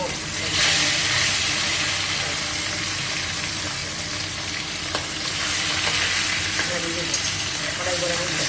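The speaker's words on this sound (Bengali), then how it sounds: "এখন একটা একটা করে আমি" Rohu fish fry in hot oil in a wok, giving a steady, loud sizzle and hiss that runs throughout, with faint clinks now and then.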